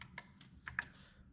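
Code being typed on a computer keyboard, a short burst of about six quiet, scattered key clicks at close range over a faint hum, with no talking.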